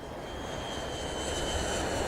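An airplane in a music video produces a steady, moderately quiet engine roar with a broad low rumble that holds even and unbroken throughout.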